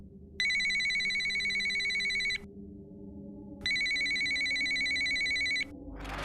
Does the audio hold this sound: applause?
no